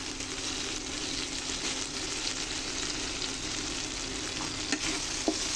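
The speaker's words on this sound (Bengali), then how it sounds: "এভাবে আমি ভালো করে এবার শুকনো শুকনো করে তুলে নেব" Chepa shutki dried fish frying in oil with cumin and culantro, a steady close sizzle with a few scrapes of a spatula in the pan.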